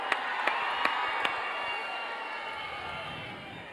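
Dense, steady audience applause fills a hall at the Idli Kadai trailer launch, with a few sharp pops near the start over a continuous wash of clapping and crowd noise.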